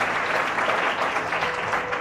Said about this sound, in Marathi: त्यासाठी एकदा सर्वांनी जोरदार टाळ्या वाजवा